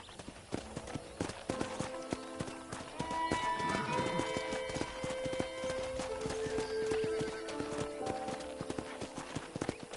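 Horse hooves clip-clop in a busy, rhythmic patter in the Red Dead Redemption video game, with a clear neighing whinny rising in the middle over soft background music.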